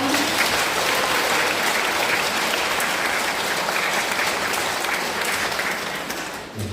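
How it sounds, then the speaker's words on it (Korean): Sustained applause from a church congregation welcoming a priest to the front for a Lenten lecture, steady and dense throughout before tapering off at the end. "신부님 박수로 환영하겠습니다."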